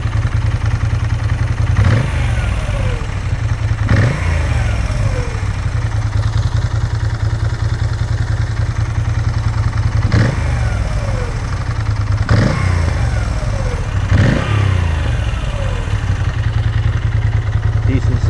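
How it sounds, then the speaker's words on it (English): A Moto Guzzi V7 III motorcycle idles with a loud exhaust rumble, revved sharply several times in quick blips that rise and fall back, close by. "Decent sounding exhaust."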